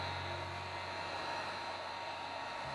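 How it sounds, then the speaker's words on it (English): Heat gun blowing over wet acrylic pour paint, a steady close whooshing fan hum with a constant airy hiss, unbroken for a few seconds. "So I'm gonna take my heat gun one last time."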